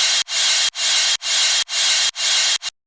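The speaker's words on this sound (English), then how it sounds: "This is from the Future Bundle, Smooth Crash." A smooth crash cymbal sample from a producer sound bundle, unprocessed, played as a bright, washy hit repeated five times in quick succession, each burst sustaining briefly before being cut off, loud and alone with no voices.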